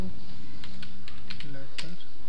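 Quick keystrokes tapped on a computer keyboard, a handful of close, crisp clicks in a short burst while a voice talks alongside.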